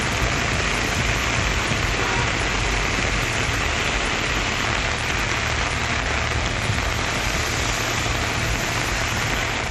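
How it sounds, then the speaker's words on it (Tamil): Heavy rain pours down steadily in Chennai, a dense, even roar of drops hitting surfaces that holds at the same loud level throughout with no breaks. "1 மணி நேரத்திற்கு மேலாக கனமழை கொட்டியது"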